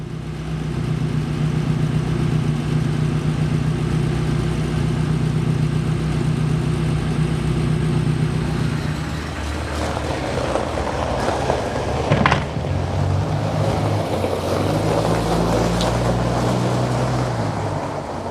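A V12 Ferrari 400i drives along with a steady, deep engine drone, then shifts to a rougher, louder roar with road noise and a brief clunk partway through.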